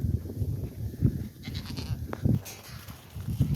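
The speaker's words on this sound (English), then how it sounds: "Feed some goats." Goats and sheep bleat repeatedly at a farm's morning feeding time, several close, loud calls coming in uneven bursts over a low rumble of movement, with no one talking.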